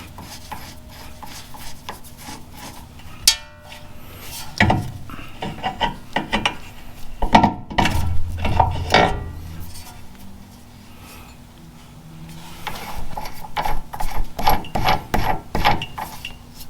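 A tie rod sleeve on a 2023 Chevy Colorado ZR2 is screwed back down with a ratcheting tool, giving bursts of clicking ratchet strokes and metallic rubbing, with pauses and quieter stretches between them.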